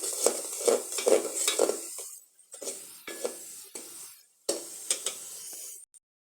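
Broiler chicken pieces with salt and spices being stirred in a pan, with a spoon scraping in short bursts separated by brief pauses, fairly close and moderately loud.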